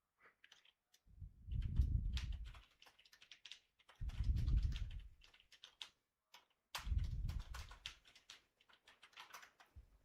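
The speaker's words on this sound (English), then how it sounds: "Pretty sure you hear my keyboard." Computer keyboard typing comes in three dense bursts of rapid clacking, close and fairly loud, separated by short pauses, with no talk.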